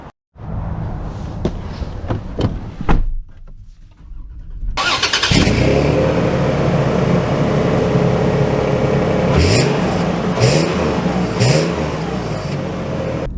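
A 2024 Toyota 4Runner SR5 starts up after a few quiet clicks and thuds, its engine catching with a loud burst and settling into a steady close idle, with a few brief revs rising near the end.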